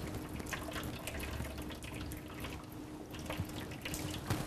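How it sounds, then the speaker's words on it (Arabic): Hot water poured into a water bath around a dish before baking at 150 degrees, a steady close splashing and trickling stream running for several seconds with small drips, no voices. "نخبزها على حمام مي على درجة حرارة 150 لمدة 45 ل 50 دقيقة مجهز أنا مي سخنة بضيفها"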